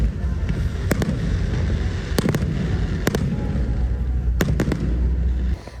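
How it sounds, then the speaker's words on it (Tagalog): Fireworks pop and crackle at intervals over a steady rumbling background, with several sharp bursts in pairs and clusters, heard from a moderate distance. "sa isang 15 minutong makapigil hiningang fireworks display nitong weekend"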